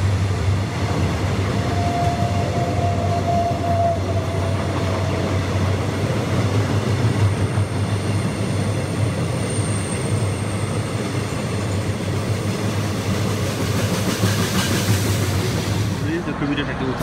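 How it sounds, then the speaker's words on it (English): An ETS electric train passes through a Malaysian railway station, a steady loud rolling rumble with a faint tonal whine that lasts throughout, underlaid by station ambience. "the Peninsular Express will overtake, taken by the ETS, go past this station shortly"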